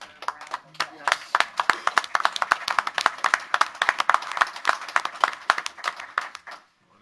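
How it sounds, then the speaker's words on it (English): A school board meeting audience applauds with rapid, overlapping claps that stay lively for several seconds, then stop abruptly into silence. "I think they deserve a round of applause"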